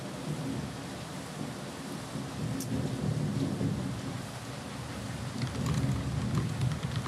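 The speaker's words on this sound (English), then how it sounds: "now we have this huge storm" A huge thunderstorm: steady, loud rain hiss throughout, with rolling thunder rumbling underneath and a couple of brief sharp cracks, no voices.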